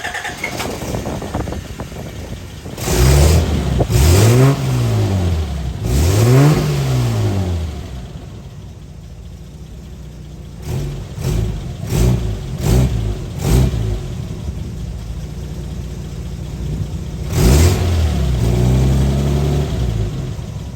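A car engine revs up and down in several sharp bursts after its clutch fluid has been topped up, the rises and falls close and loud with idle rumbling between them.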